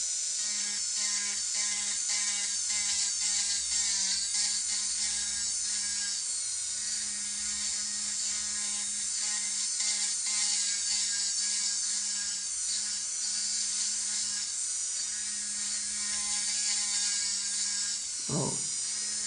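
Electric nail file whirring steadily in a high, thin drone while sanding the corners of a natural nail, close and constant with slight pitch wavers and a brief knock near the end.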